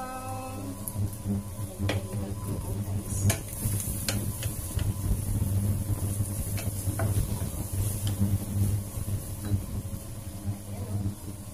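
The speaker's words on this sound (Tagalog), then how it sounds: "Luto ko lang yung tinapa." Smoked fish (tinapa) frying in a pan for Ilocano pinakbet, a continuous soft sizzle with intermittent scraping and tapping from a utensil against the pan, close by, steady throughout.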